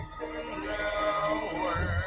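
A telephone rings in the Black Phone 2 movie trailer, a steady electronic ring with trailer music and ambience beneath it, loud and close throughout.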